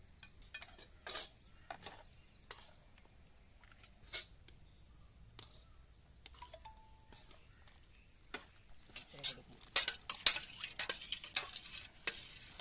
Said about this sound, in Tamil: நல்லா கலக்குங்க.